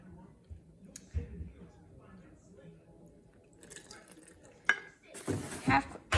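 Water is poured into a jar of gluten-free sourdough starter made with King Arthur gluten-free flour: faint drips and trickles, then a louder splashing pour near the end.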